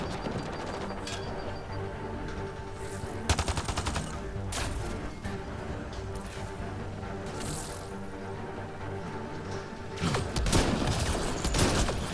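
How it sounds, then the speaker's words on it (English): Gunfire in the video game Mass Effect Andromeda: continuous rapid bursts of shots and sharp cracks, with louder volleys spaced through the stretch, steady and fairly loud throughout. "What the fuck is shooting me?"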